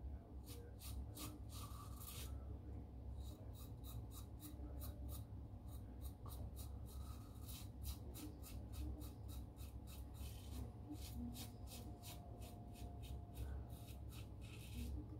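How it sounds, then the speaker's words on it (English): Aluminium safety razor shaving hair, a faint, close, continuous scratchy rasping made of rapid repeated strokes with brief pauses, no voice. "It's taking the hair down."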